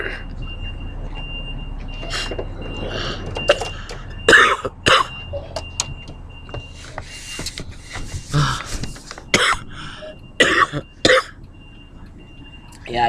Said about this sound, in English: Yeah, I still got that nasty cough.